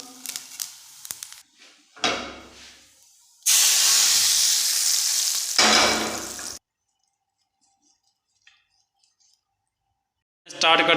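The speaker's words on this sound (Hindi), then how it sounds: "ये थोड़ा सा ज़ीरे का तड़का," Cumin seeds tempering in hot oil for Lahori chickpeas, a loud burst of sizzling and hissing that swells for a few seconds and then stops, with short bursts of talk before it.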